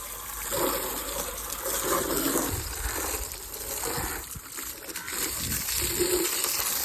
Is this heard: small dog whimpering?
no